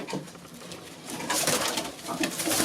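Pedigree show pigeons of a Polish breeder, whose birds win beauty and flying contests, coo nearby amid a rustling, hissy loft backdrop that swells partway through.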